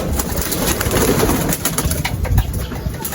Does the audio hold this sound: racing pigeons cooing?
yes